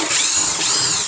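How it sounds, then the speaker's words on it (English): Power tool driving screws out of the airbox lid on a VW Tiguan engine, a loud, close, steady whir with a slight dip in pitch partway through, lasting about a second. "Now we can start taking our screws off the airbox lid."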